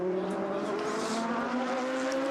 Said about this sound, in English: So riding on board here with the number 1 car after that pit stop.